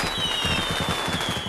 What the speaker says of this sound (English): and so Oscar pulls out a huge firecracker from the back. He lights it up as the customers run away, stepping back as it explodes